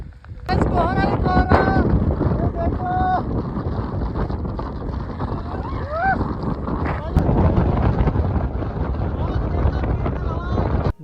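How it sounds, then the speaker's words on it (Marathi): Strong wind buffets the microphone in a constant roar on a fort during a monsoon trek at Manikgad, with people talking over it throughout. "जोरात वाहणारा हा वारा"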